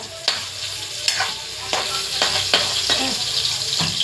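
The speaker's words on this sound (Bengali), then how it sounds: "এই দেখো সব রকম মাছ ভাজা হচ্ছে।" Pomfret and rohu fish fry in hot oil, a continuous close sizzle punctuated by several sharp scraping stirs of a spatula in the pan.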